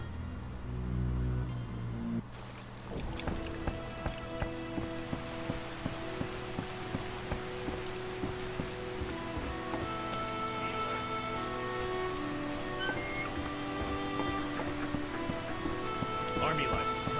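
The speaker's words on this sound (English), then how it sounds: "Oh, when will this rain stop?" Rain falls in The Witcher: Enhanced Edition as a steady, dense patter on surfaces. Soft tonal game sounds sit beneath it, and after a brief dip at the start the rain continues without a break.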